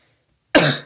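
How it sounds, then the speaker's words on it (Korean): A teacher with a cold gives a single loud, close cough that bursts out after a moment of silence and fades over a fraction of a second. "감기 걸려서 기침을 좀 하는 거 좀 양해 좀 말씀 좀 드리겠습니다."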